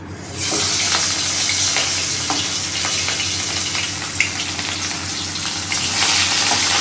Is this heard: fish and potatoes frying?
yes